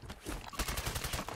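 Rapid bursts of automatic gunfire from a Call of Duty Warzone firefight, dense overlapping shots fired in quick succession, loud and sustained across the whole moment.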